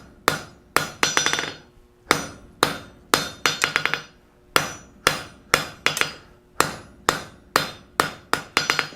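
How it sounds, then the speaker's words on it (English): Hammer blows forging down the bosses on a metal bar, struck in quick clusters of two to four ringing hits separated by short pauses, loud and close with no talking. "we want to forge down those bosses"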